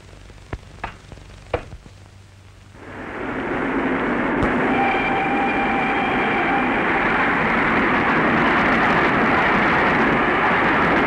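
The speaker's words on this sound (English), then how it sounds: "Helene and I were on the train to Vienna" Train travelling as a radio drama sound effect: a few sharp knocks, then a loud, steady rumbling roar with a faint whistle-like tone that rises in and holds to the end.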